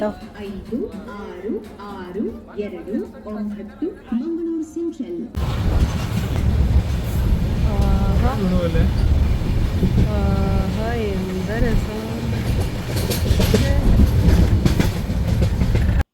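A train rumbles and rattles along the rails near Byndoor, growing louder after a few seconds, while people talk over the steady clatter.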